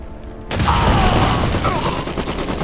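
Soldiers open fire in the PC game Iron Harvest (Opération Eagle DLC): after half a second of low ambience, a loud, dense barrage of gunfire suddenly erupts and rolls on steadily to the end.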